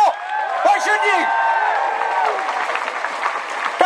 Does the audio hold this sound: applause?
yes